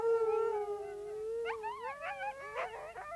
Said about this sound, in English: It's certainly that eerie, desperate howl that sets the husky apart from the rest of the canine kingdom.